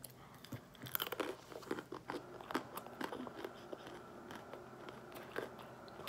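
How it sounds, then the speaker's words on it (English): Snack mix being crunched during a hot chip challenge, close loud bites and chewing crunches coming in an irregular run of crackly bursts. "Now it's time to eat some snack mix."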